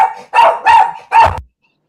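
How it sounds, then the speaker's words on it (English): A dog barks three times in quick succession, loud and close, then falls silent. "The dog is doing the most, but sorry about that, y'all."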